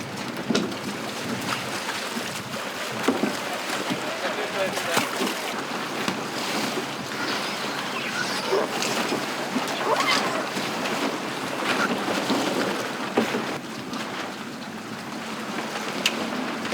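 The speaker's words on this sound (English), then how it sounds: "things begin to hot up with the scramble to get afloat, and competitors launch their dinghies." Sailing dinghies launch and race on the open sea off Hayling in a good breeze, with steady wind and water wash, hull slaps and occasional clatter of rigging throughout.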